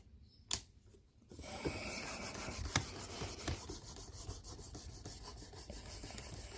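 A knife blade drawn along a Work Sharp Precision Adjust ceramic rod to polish away coarse scratch lines, making a steady close rasping rub that runs on continuously after a sharp click and a brief quiet start.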